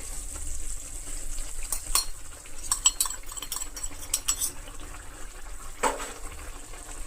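Sesame cake powder (telagapindi) is stirred into drumstick leaves cooking in a pan. A metal utensil clinks and scrapes repeatedly over a soft continuous sizzle.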